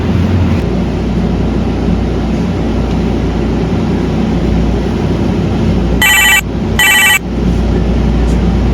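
A telephone rings through an unanswered call, two short bright electronic ring bursts near the end over a loud, steady background rumble.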